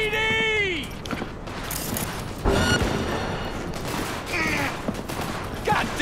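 Pistol gunfire and action effects crackle in the video game Cyberpunk 2077, in scattered bursts over busy combat noise, with voices talking throughout.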